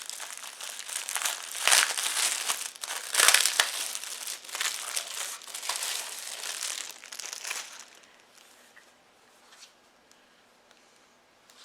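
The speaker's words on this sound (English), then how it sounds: "Let me get it out of the plastic." Plastic wrapping on a 12-inch decorative sign crinkles and crushes in continuous close handling for several seconds, then goes quiet.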